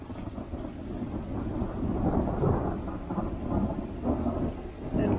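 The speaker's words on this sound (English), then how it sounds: "We got a thunderstorm directly over our head." Thunderstorm over Long Pond Mountain in the St Regis Canoe Wilderness, with thunder rumbling low and continuous beneath steady rain, loud and close throughout with no voices.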